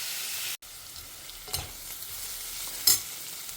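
Snake gourd sautéing in a pan, a steady soft sizzle with a brief break near the start and a couple of light clatters from stirring.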